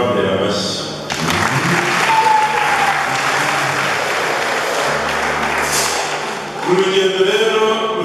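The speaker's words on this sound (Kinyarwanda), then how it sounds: "babambera amashyi." Audience clapping at a monthly gospel music concert, a burst of applause rising after a second and holding steady for several seconds, with a voice speaking over the start and end.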